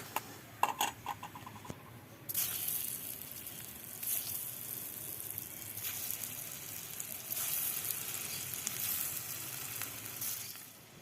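Potatoes fry in hot oil: a few sharp clicks and taps open, then a steady, moderately loud sizzle starts around two seconds and continues to the end, with no voices.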